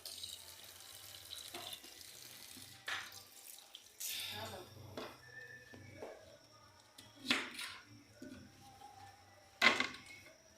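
Tap water runs in a kitchen sink as vegetables are rinsed for Haitian seasoning, the splashing coming in short bursts, stopping and starting, while someone talks over it.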